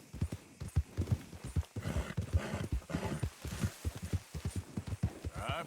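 Horse hooves clip-clopping at a steady walking pace in Red Dead Redemption 2, close and rhythmic with soft ambient noise behind and no talk.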